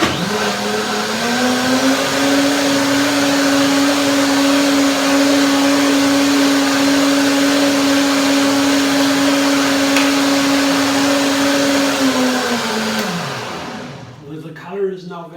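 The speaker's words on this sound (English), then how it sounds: "So I have a blender." A loud, close blender motor blends cinnamon apple carrot juice, holding one steady whirring pitch for about thirteen seconds before it winds down to a stop.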